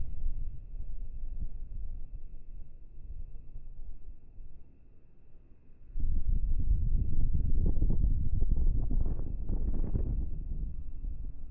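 Wind gusts buffet the microphone on a lake during a crappie fishing trip, a low rumbling roar that eases briefly then surges louder and steadier near the end, with no talk.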